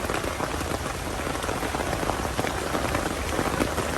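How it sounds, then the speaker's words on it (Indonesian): Steady rain falls through a forest, a dense, even patter of drops on leaves and surfaces, close and continuous with no voices. "Dan semoga hujannya reda."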